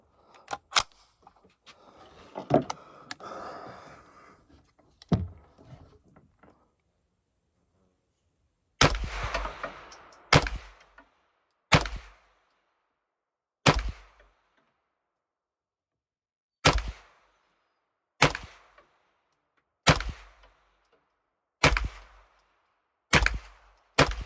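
Henry Homesteader 9mm carbine fired at a target, several sharp loud shots spaced about a second or two apart, with clattering handling noise before the shooting starts.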